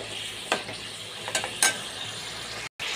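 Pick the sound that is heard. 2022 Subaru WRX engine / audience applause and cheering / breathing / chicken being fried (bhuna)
chicken being fried (bhuna)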